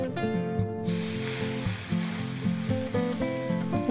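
Water poured into a hot pan for an oil-free Bengali fish curry sets off a sudden hiss and sizzle that settles into steady bubbling, with tonal music playing throughout.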